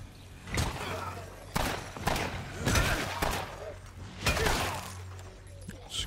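Several loud, sharp gunshot bursts crack out in State of Decay 2, a zombie survival video game, spaced irregularly over a low game-audio drone, with a faint voice talking in the background.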